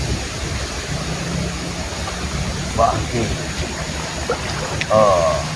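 A river flows with a steady, loud, rushing wash of water that never lets up, while someone speaks briefly over it.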